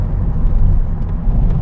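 A Mitsubishi GTO MR V6 engine pulls under throttle as a deep, steady rumble heard from inside the car, loud and continuous without distinct peaks.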